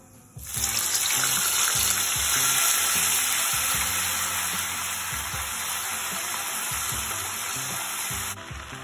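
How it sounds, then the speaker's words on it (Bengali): Whole garam masala with ginger and green chili paste frying in hot oil for a Bengali doi potol dish, a loud, dense, continuous sizzle that starts abruptly and holds steady before dropping slightly near the end, with faint stirring underneath. "যখন গোটা গরম মশলা থেকে সুন্দর সেন্ট একটা উঠবে, তখন দিয়ে দেব আদা আর কাঁচা লঙ্কা বাটা"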